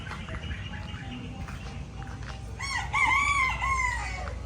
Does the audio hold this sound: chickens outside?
yes